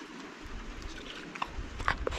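Farm animals in a village near Bayındır, İzmir, eat greedily, with close crunching and chewing that keep up in a continuous run with a few sharper bites.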